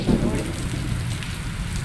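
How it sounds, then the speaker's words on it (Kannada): Heavy rain pours steadily throughout, a dense continuous hiss of drops on surfaces that stays loud from start to finish, with no speech. "ಈಗ ಭಯಂಕರ ಮಳೆ ಮಳೆ"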